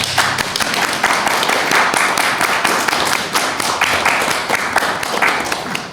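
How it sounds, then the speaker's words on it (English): An audience at a conversation event claps steadily in a dense, continuous round of applause, loud and close throughout, with no break in the clapping. "Let's give it a round of applause,"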